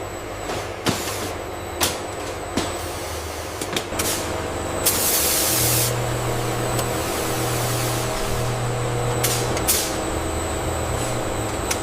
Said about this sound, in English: The nozzle pressure is holding steady at 50 psi. The spray pattern looks completely uniform.